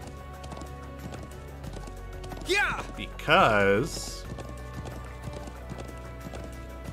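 Steady clip-clop of horse hoofbeats in the Trails of Cold Steel 2 video game, a regular trotting rhythm throughout, with someone briefly speaking over it in the middle.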